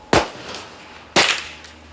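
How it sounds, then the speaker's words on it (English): Two sharp, close .22 rifle shots about a second apart at a 100-yard range using SK Rifle Match ammunition, each a crisp crack followed by a short fading echo. "First round. Again, SK Rifle Match 100 yards."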